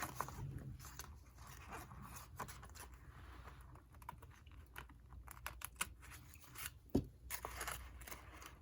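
Scissors trim paper with a series of quick, quiet snips in an irregular rhythm, close up, alongside light handling rustles and a single sharper knock near the end.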